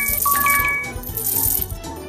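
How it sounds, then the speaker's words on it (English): Cartoon hammer taps drive nails into a bird feeder in a children's pony-care video game, a quick run of light knocks mixed with chiming, coin-like game effects. "Now hammer the nails."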